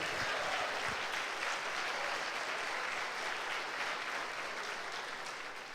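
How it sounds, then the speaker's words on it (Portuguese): A church congregation at a pastors' gathering applauds Jesus, with dense, continuous clapping filling the room and a few louder claps near the start, fading slightly toward the end. "dá um aplauso aí a Jesus."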